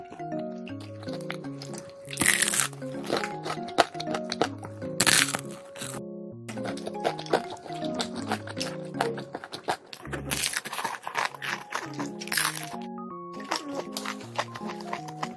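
Crispy fried food crunches loudly in several separate bites spaced a few seconds apart, each a sharp, close crackle over continuous background music.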